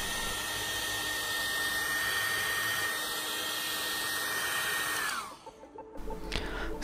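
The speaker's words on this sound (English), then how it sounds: "Take any hairdryer and heat the surface of the screen for 1 or 2 minutes." A hair dryer blows with a loud, steady whirring roar and a high whine, then spins down and cuts off, leaving faint handling sounds.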